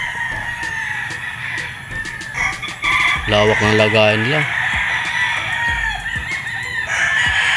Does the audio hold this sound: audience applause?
no